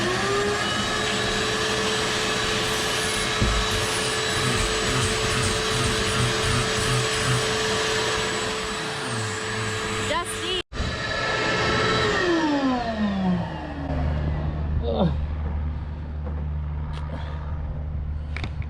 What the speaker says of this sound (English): I have been running the vacuum cleaner down there as well